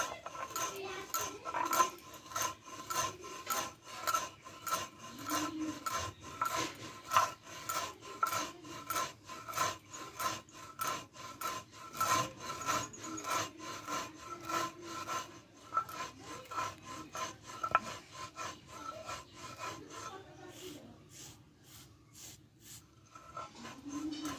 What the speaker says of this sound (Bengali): আমি কিন্তু হাতে শিলনোড়ায় গুঁড়ো করে নেব